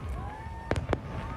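Fireworks at an Independence Day celebration in Hawaii, with two or three quick, fairly distant bangs over a steady background murmur of crowd noise and a faint whistle.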